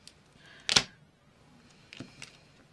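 Scissors snip paper for a junk journal, one crisp close cut followed by a couple of fainter clicks and rustles in a quiet room.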